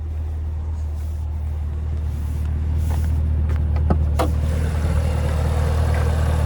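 A 2022 Cadillac CT5-V Blackwing's 6.2 liter supercharged V8 idles with a deep, steady rumble, heard close from the engine bay, with a few faint clicks and knocks over it.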